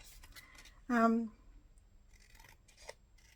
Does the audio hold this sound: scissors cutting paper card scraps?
yes